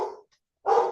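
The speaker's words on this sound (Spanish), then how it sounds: "tengo dos perros súper escandalosos y parecieran, de veras que parecieran, que saben cuando voy a empezar a hacer las grabaciones y entonces se ponen vamos a ladrar" A dog barks twice in quick succession, fairly close and loud, with a short silent gap between the two sharp barks and no voices.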